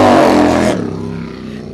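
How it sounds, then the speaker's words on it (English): A loud motorcycle engine revs hard at a Harley dealership, then drops off sharply into a lower rumbling idle. "everybody's been listening to revving bikes all night"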